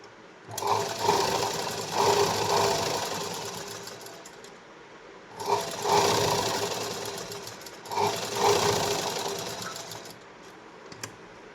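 A sewing machine stitches a blouse in three close bursts of rapid, steady whirring and clattering, with short quiet pauses between each run.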